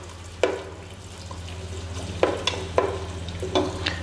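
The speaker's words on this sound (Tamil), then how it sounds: "எண்ணெய் ஊற்றினோடனே நம்ம என்ன பண்ணுறோம், வெங்காயம் போட போகிறோம்." Onions frying in hot oil with cinnamon, cloves and cardamom being added while cooking rava khichdi, a steady close sizzle broken by several sharp scraping stirs of a spoon in the pan.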